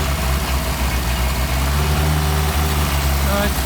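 Solex carburetors on a running engine sucking in sprayed combustible fluid, the steady near engine note with its low idle drone holding throughout, slight shifts in speed under a continuous rumble.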